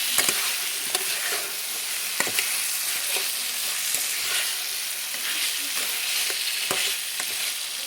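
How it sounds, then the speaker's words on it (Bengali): Fried potatoes are stirred through hot spiced oil in a pan, a steady loud sizzle broken by repeated sharp scrapes and taps of the spoon, with no talking. "এবার ভেজে রাখা আলুটা দিয়ে দেবো, একটু ভালো করে কষে নেব"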